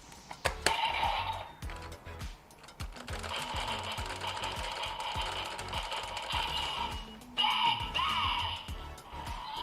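A busy electronic toy sound effect from a Kikai Sentai Zenkaiger DX Geartlinger transformation device: rapid mechanical whirring and buzzing that runs continuously, with bursts of brighter noise, and no speech.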